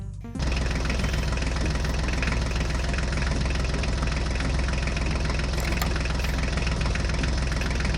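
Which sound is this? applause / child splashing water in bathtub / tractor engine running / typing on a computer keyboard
tractor engine running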